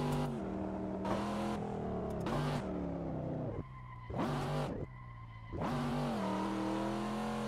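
Racing-sim car engine roaring and revving in bursts on a mountain touge road during a drift run, the pitch dropping sharply between bursts as the gearbox downshifts via a MOZA shifter, loud and continuous with brief lulls.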